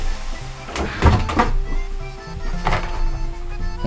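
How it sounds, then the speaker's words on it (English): A window being closed indoors, with a few solid thunks and knocks, a sliding scrape and rattling handling noises at close range against a low background hum. "And I think I'm gonna close my window."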